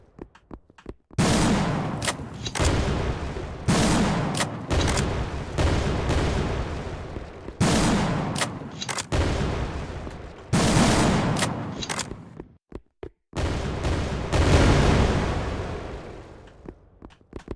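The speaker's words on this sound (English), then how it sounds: "destructibles can now explode into multiple pieces" Destructible objects in an indie action game repeatedly exploding into multiple pieces, heard as a series of loud, sharp bursts with crackling debris. Each burst decays over a second or two, and the bursts come at irregular intervals.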